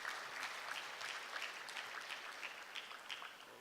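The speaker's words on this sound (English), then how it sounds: "I would also request you to give a big clap to our honorable ministers for this" Audience at a United Nations Public Service Awards ministerial roundtable applauds the honorable ministers, a steady, even clapping from a mid-sized crowd that holds at a constant level throughout, with no talk over it.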